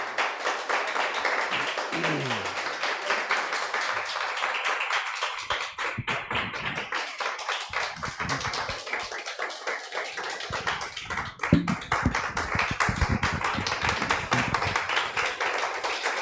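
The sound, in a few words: congregation applause in church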